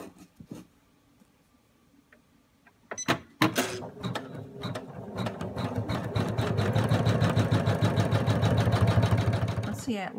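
An embroidery sewing machine stitches a mouse outline onto hooped fabric, starting after a few clicks and building into a steady, rapid mechanical whirr that is close and moderately loud.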